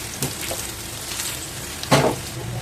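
Chapati frying in oil in a pan, a steady close sizzle with a brief louder crackle and flip near the end.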